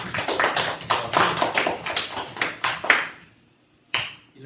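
A small group claps, brisk and uneven, trailing off into near silence before one last single clap.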